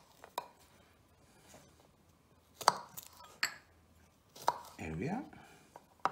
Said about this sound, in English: And just roughly chop.